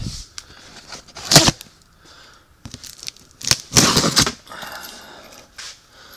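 Tape is ripped off a sealed cardboard box in several sharp, loud tearing strokes with short pauses, close up and with no voices.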